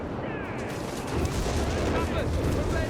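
Artillery fire and explosions from the World War II strategy game Company of Heroes 3, a dense, continuous barrage of booms and crackling blasts that swells louder after the first second and rumbles on without a break.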